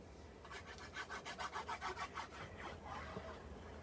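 A paper trimmer blade slides through cardstock in a quick run of about a dozen close, rhythmic rasping strokes, followed by a softer scrape and quiet handling.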